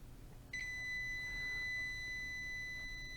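A multimeter in continuity mode emits a continuous high-pitched electronic beep when its leads touch, starting abruptly after a short pause and holding steady, clear and fairly close, over quiet background hum.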